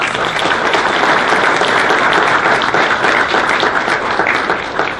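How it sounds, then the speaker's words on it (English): An audience at a basketball coaches' introduction applauds the athletic director, with loud, dense, sustained clapping throughout. "I'd just like to give him a round of applause."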